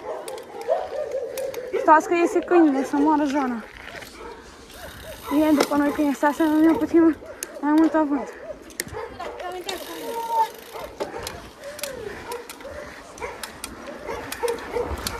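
A dog barks in short bursts and whimpers between them, fairly close, while people talk over and around the sounds.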